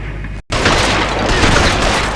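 Gunshots in the L.A. Noire video game: a loud, dense burst of firing and booming after a brief cut to silence, continuing up close and heavy throughout.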